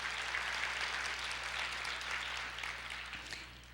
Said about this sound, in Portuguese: Vamos aplaudir ao Senhor e nos alegrar com a sua palavra